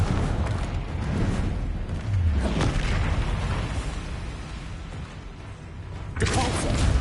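Confringo blasting curse from Hogwarts Legacy erupts in a broad, rumbling explosion with a low boom that stays dense and loud for several seconds, followed by a fresh burst near the end.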